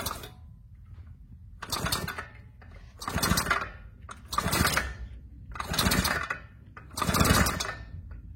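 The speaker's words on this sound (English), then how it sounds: "Let me spin the back wheel." A motorcycle back wheel spun by hand turns an engine with a broken crankshaft, giving five or six evenly spaced bursts of mechanical churning and clatter separated by quiet gaps, close by.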